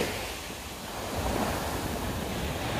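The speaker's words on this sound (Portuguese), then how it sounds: "Já viu o mar." Sea waves wash onto a beach at Gaeta and Sperlonga in winter, a steady broadband rush of surf that swells gently midway. Faint wind buffets the microphone, and no voices are heard.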